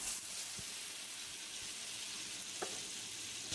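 Bread slices dipped in a ghee mixture fry in a pan over low heat, giving a steady, close sizzle with faint crackles and one brief spatter, no voices.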